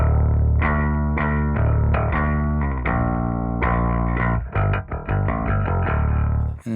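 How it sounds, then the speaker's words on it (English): Bass guitar from a song, captured through a FET 47 microphone, plays a steady run of thick, driven, distorted notes that stay loud and continuous for about six seconds before a brief break and a final hit. "FET 47 sounds like this."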